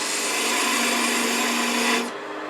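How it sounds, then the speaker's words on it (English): Wood spinning on a lathe gives a steady hiss and scrape as a parting cut is made on a small turned snowman ornament, with a faint tonal hum, then the cutting sound drops off abruptly near the end. "Go back to making that parting cut again."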